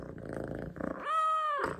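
A kitten purring close by, a low steady rumble that swells into a brief harmonic meow-like cry in the middle, alone without talk.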